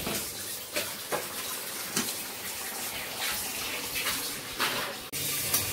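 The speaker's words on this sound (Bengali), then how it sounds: "এই যে বড়াগুলো ভেজে নিচ্ছি, পাট শাকের বড়া।" Jute leaf fritters sizzle in hot oil, a steady broadband hiss with crackling bursts and a few louder pops, close and continuous with no talk.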